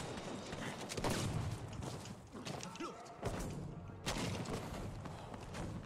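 A tank in a Battlefield V battle takes a glancing hit: dull thuds and crashing impacts ring out amid dense, loud combat noise and rumble, with sharp bursts near one second, three seconds and four seconds.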